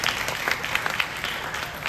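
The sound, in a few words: audience applause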